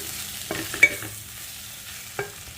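Brinjal pieces fry in a pan while a spatula stirs them, giving a soft background sizzle broken by a few close, light scrapes and taps.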